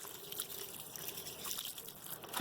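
Water trickles and splashes steadily onto garden plants from a watering source, a soft, continuous pour that sits close and fairly quiet with no voices over it.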